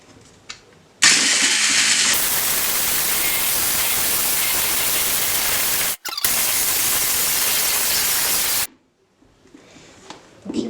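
An electric hand mixer whirs steadily as it beats chocolate cake batter, a loud continuous buzz lasting about eight seconds with a brief interruption partway through.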